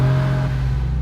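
A Mercedes R107's engine runs close by with a loud, steady low idle hum and strong harmonic drone, brief and unbroken.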